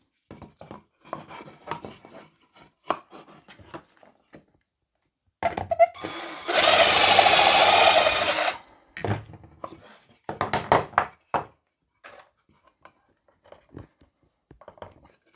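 A drill bores a 6 mm dowel hole into wood through a dowel-joint jig: one loud, steady whir lasting about two seconds, with lighter clatter and handling of tools and wood before and after.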